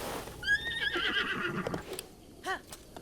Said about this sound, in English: Horses in Breath of the Wild aren't amazing.